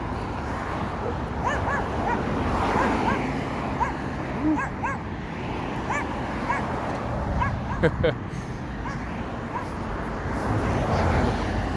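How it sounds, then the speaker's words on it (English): Dogs barking and whimpering with short yips, scattered bursts at a middle distance over steady outdoor background noise during a walk, with talk mixed in through much of it. "Dogs."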